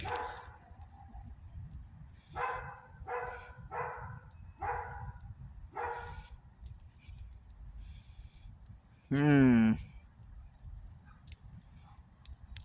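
A dog barks several times in short bursts at a moderate distance, followed by a longer whining howl, over a steady low background rumble.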